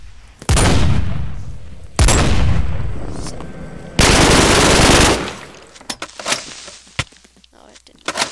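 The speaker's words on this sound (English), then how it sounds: "if one blows up near another one, then they all blow up" Grenades explode in a chain in the Minecraft Flan's Mod video game: three heavy booms in quick succession, each followed by a rumbling decay, then scattered smaller pops and clatter as things settle.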